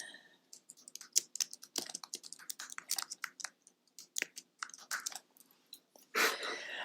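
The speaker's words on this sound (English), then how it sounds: "I can just click and start typing." Fingers type on a computer keyboard in quick, irregular bursts of close, crisp key clicks, ending with a brief louder rustle.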